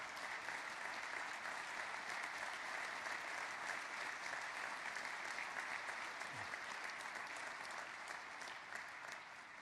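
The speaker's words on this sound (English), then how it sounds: "Round of applause." Sustained applause from an audience honoring recognized staff at a corporate event, a steady dense clatter of many hands clapping throughout without a break.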